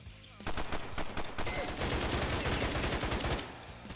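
Sustained automatic gunfire from the video game Stalcraft, loud rapid shots in a continuous burst lasting about three seconds, close and dominant.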